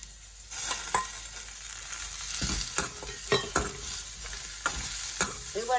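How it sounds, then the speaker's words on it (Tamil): Veldt grape (pirandai) stems fry in a pan for chutney, a steady close sizzle broken by repeated sharp scraping stirs and clinks of the spatula, with no talking. "இதுக்குள்ளே நாங்கள் எடுத்து வச்சிருக்கிற பிரண்டியை சேர்த்தோம்"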